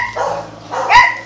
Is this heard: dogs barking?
yes